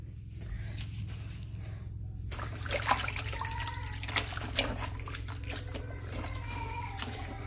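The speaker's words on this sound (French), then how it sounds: "Pour rincer, parce que bien sûr, il faut quand même rincer" Water running and splashing as something is rinsed during household cleaning with multi-surface cleaning products, a close, moderate trickle and slosh with a low steady hum underneath.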